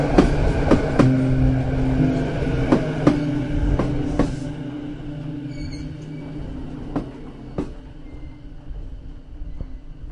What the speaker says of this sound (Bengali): ট্রেন স্টেশনে এসে থামে।